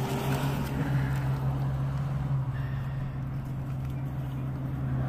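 Loud trucks pass by on a Texas road, a steady rumbling engine drone heard at moderate distance.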